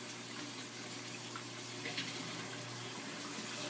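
Water siphoning through the overflow of a 75-gallon aquarium's BeanAnimal overflow system, a faint, steady rushing trickle with a low hum underneath.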